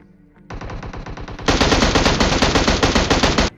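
AUG rifle gunfire in a mobile shooting game: a rapid automatic burst steps up into a louder, sustained stream of shots and then stops abruptly. It is close and loud, with no talk.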